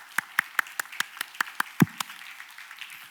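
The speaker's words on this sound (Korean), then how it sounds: "우리 박수로 하나님 앞에 영광 돌리겠습니다" Clapping at a Korean church's midnight New Year's Eve service, about nine sharp, evenly spaced claps at a steady quick beat that stop abruptly after a dull thump, leaving a quiet room.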